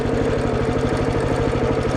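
Engine of a cheap $100 minibike running steadily with a rough, pulsing small-engine drone, loud and close, continuous throughout with no talk.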